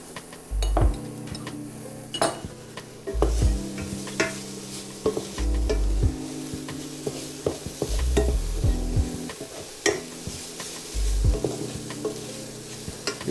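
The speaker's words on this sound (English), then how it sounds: "Keep stirring on medium heat." Onions, ginger, garlic and green chilies sizzle steadily in a pan over medium heat while a utensil stirs them, with repeated scraping and clinking strokes against the metal, close and fairly loud, no talking.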